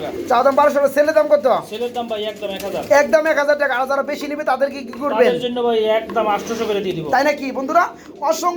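Pigeons cooing softly beneath someone talking steadily close by, their low calls mostly buried under his voice.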